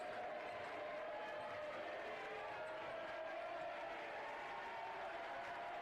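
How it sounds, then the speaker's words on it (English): A crowd at a 2024-25 Indiana boys high school basketball game between Triton Central and Heritage Christian roars with steady cheering, a continuous wash of distant voices and clapping that holds at an even, moderate level throughout. "the crowd getting involved"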